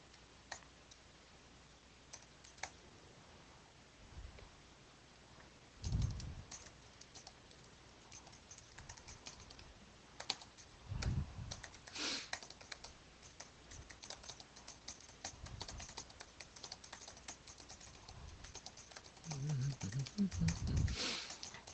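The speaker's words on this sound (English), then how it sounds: "I'm a fast typer." Keys click in quick, uneven bursts of fast typing on a computer keyboard, faint and close, broken by a few louder knocks and thumps.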